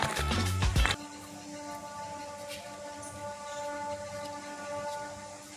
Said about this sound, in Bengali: ট্রেনের আওয়াজও শোনা যাচ্ছে।